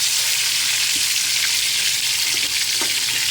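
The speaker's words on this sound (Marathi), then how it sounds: "आता फक्त हे तेलामध्ये आपल्याला फ्राय करून म्हणजे थोडंसं परतून घ्यायचं तेलामध्ये" Stuffed bitter gourd (karela) fries in hot oil in a pan, a loud, steady broadband sizzle that never lets up, with a few faint clicks of stirring scattered through.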